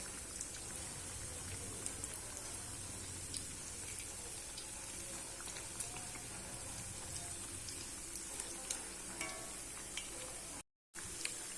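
Lentil spinach vada frying in oil over a medium flame, a steady soft sizzle with scattered crackles and pops, faint and continuous, briefly cut out near the end.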